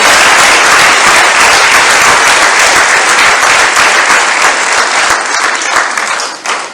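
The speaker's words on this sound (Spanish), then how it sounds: "Denle un fuerte aplauso al Señor." A church congregation gives loud, sustained applause during a service, a thick wash of many hands clapping close and strong that thins slightly toward the end.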